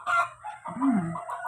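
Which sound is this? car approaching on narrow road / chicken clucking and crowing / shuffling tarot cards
chicken clucking and crowing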